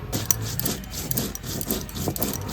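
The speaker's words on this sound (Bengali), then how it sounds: "আমি কিছু জিরে বেটে নিচ্ছি" Cumin being ground into a paste by hand on a stone in a kitchen, a steady run of rough, scraping rubs repeated in a loose back-and-forth rhythm, close and moderately loud with no talking.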